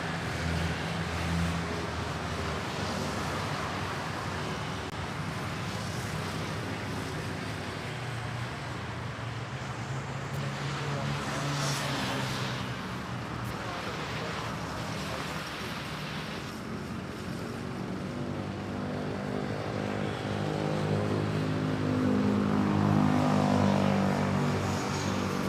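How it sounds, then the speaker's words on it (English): Airbus A330 airliner arriving at Manila airport from Ho Chi Minh City, a steady distant jet engine roar held throughout and swelling slightly louder near the end, with no talk. "Airlines A330 arriving from Ho Chi Minh,"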